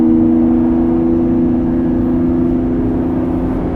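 Lamborghini Revuelto plug-in hybrid accelerating on a race track in Corsa mode, a steady loud droning engine note with a strong sustained hum, heard from inside the car with no talking.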